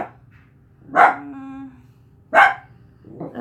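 Two loud, close barks from a dachshund, with a brief whiny tone between them and a softer yip at the end.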